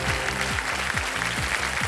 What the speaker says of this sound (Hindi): ताली पहले ही पड़ गई थी।